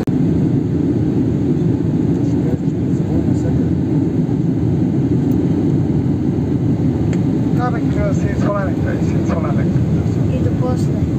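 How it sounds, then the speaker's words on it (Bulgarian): Steady, loud airplane cabin roar as the plane comes in to land, a broad engine and airflow rumble that holds evenly throughout, with people talking faintly in the background near the end. "Кацаме!"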